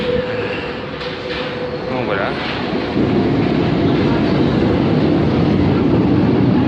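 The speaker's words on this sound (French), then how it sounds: "je vous montre un peu l'arrivée d'un métro, on l'entend justement arriver." A Paris metro train pulls into a station with a rising rumble and rail noise that grows louder and fills the space, while someone speaks briefly at the start.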